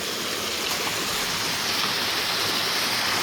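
A creek in Eastern Kentucky's Appalachian hills runs over huge rocks, making a constant close, hissing rush of water that stays steady throughout, with no talking.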